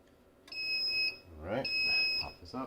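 A heat press timer alarm sounds two long, steady electronic beeps near the mic, and a person speaks between and over them. The press is set to 320 degrees for a 20-second cycle while heat transfer vinyl is applied.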